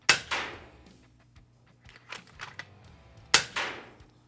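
An FX Impact M3 .25 caliber air rifle fires two sharp, loud shots through a chronograph, one at the start and one near the end, each with a short ringing tail and quiet handling noise between.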